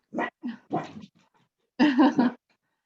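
Dogs barking at home in short, loud bursts, a few quick barks followed by a pause and then another cluster of yaps, fairly close.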